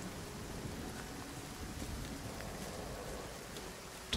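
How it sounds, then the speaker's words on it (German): Steady rain in the video game Nightingale hisses softly and evenly, a constant wash of drops with no voices, faint and distant throughout. "wo es die ganze Zeit regnet"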